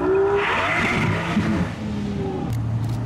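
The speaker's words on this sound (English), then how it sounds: "It does have that muted turbo noise," A Ferrari SF90 with quad exhaust and a muted turbo engine note accelerates and turns nearby at a Goodwood Festival of Speed event, with some tire noise and a steady engine drone.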